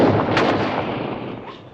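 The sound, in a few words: gunshot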